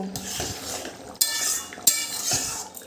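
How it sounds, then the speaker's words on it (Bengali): A spoon stirs a vegetarian elephant foot yam curry with a little ghee in a pot, scraping and clinking in a steady close rhythm with two sharper knocks against the pot's side. "মিশিয়ে নিচ্ছি বন্ধুরা"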